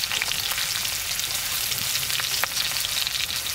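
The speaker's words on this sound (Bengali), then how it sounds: "আমি তেলেতে প্রথমে রসুন কুচি দিয়ে দিচ্ছি একই সাথে দিয়ে দেবো পেঁয়াজ কুচি" Chopped garlic and onion sizzling in hot white oil in a pan, a steady loud crackling hiss with small pops, no voices.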